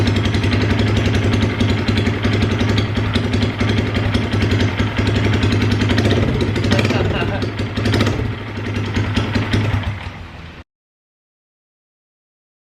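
Open-header 2022 Honda Grom idling with no muffler, a loud, close, steady staccato putter with a slight dip partway through, ending abruptly when the engine is shut off and silence follows.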